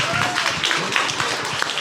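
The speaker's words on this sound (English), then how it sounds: "Give me a round of applause then." An audience applauds indoors at an event in Chicago, a dense, continuous clatter of many hands heard up close, with voices mixed into the crowd noise.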